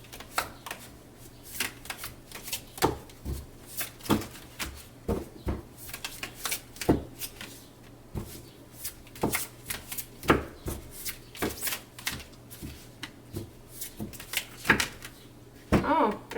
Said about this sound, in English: we're going to shuffle some tarot for you guys